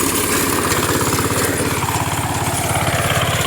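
An active rotary tiller churns through a stubble field, its engine droning loud and steady with a rapid, rhythmic clatter of blades running throughout, close and continuous.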